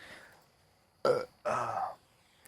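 Two short, throaty burps in quick succession, the second longer and louder, close to the listener.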